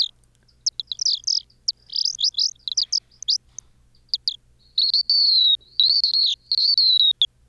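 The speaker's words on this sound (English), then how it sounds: "here we have some birds chirping" High, bright bird chirps in quick choppy bursts, then longer warbling whistled calls, clean and isolated against silence.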